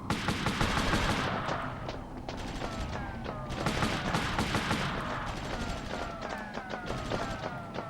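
Dense video game gunfire from Army Men: Sea, Land, Air on PlayStation, with rapid repeated bursts and automatic fire rattling continuously over a busy battle din, loud and close throughout.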